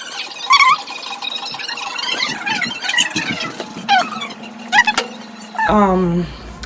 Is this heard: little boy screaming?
yes